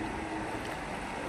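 A rescue boat's engine runs on the Savitri river during a search, a steady close roar blended with rushing wind and water noise and no voices.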